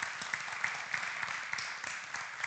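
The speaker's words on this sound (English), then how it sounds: "Another round of applause" An audience at a game design talk claps steadily, a moderate even patter of applause that continues without voices.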